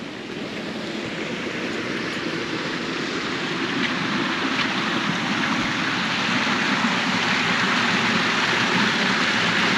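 Steady rushing water roars without a break, a dense broadband wash like a waterfall heard close by in a botanical garden in Gainesville, Florida, with no voices.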